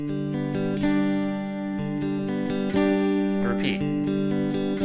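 Electric guitar plays a riff mixing sustained chord hits with ringing harmonics, close and clear, with a steady rhythm over about five seconds and no talking.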